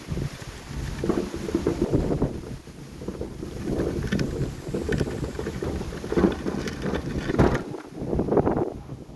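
Steady wind buffeting a microphone outdoors, a continuous low rumble with gusts swelling and fading throughout, likely near water.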